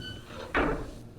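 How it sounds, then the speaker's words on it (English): A door in the game Myst shuts with one short, soft whooshing thud midway through, over a low ambient hum, with no voices. "Closed door."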